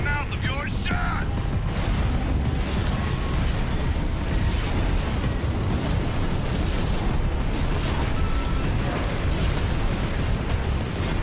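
Grenade blasts in Armored Core VI gameplay, a dense, continuous roar of explosive bursts and rumble filling the whole stretch, loud and sustained, with speech mixed underneath.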